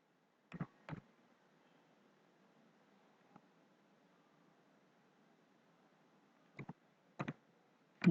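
A computer mouse clicks nearby in quiet room tone: a quick pair of clicks, a long pause with one faint tap, then further paired clicks toward the end.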